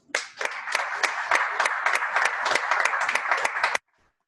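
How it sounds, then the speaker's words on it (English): Dense, steady applause from the audience honouring awardees at a maritime academy commissioning ceremony, with many hands clapping loudly together for several seconds before stopping abruptly. "please join me in giving another round of applause to our awardees"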